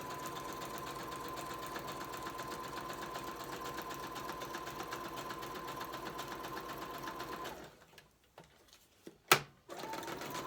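A sewing machine stitches steadily with a fast, even mechanical whir, then stops abruptly, leaving near silence broken by a single brief clack.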